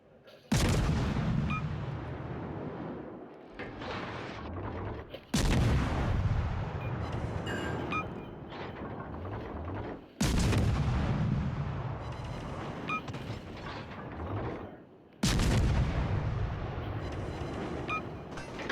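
Destroyer Provorny fires its guns in a naval video game, with four loud booming salvos at regular intervals of about five seconds, each trailing into a rumbling decay.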